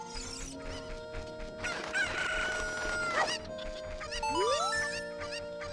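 Cuckoo chickens in the video game Zelda: Ocarina of Time cluck and crow loudly, a rooster-like cock-a-doodle-doo ringing over busy game sound effects and a rising chime.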